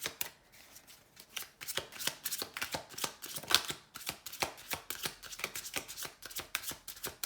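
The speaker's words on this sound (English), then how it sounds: "I'm just trying to get the cards out." Tarot cards being handled and shuffled, a steady run of crisp riffling slaps and flicks close by, with no voices.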